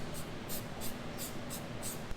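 Easy Foss bare metal rust treatment sprayed onto freshly welded bare metal on an F100 unibody, heard as six short, fairly quiet hissing bursts in a steady rhythm over a low background hum.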